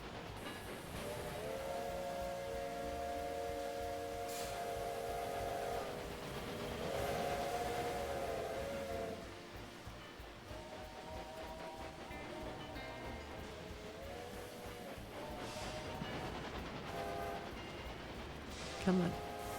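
Trains rumble along in the Railway Empire game with a steady mechanical hum and a couple of whistle tones, faint beneath a person talking.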